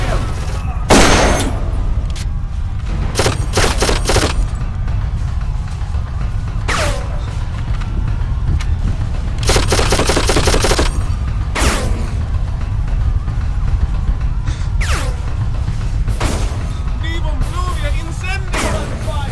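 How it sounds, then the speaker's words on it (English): Gunfire in a firefight in the video game Darkest of Days, with loud close bursts and single shots cracking over a constant roaring din, and voices calling out amid the shooting. "We're under fire."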